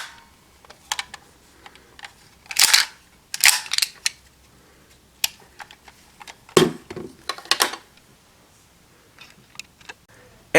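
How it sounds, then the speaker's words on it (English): A Kamen Rider OOO Birth Driver toy belt has its crank turned, giving scattered close clicks and a few sharp plastic pops and snaps with quiet gaps between them. "so that you get that pop when you turn the crank to that certain point"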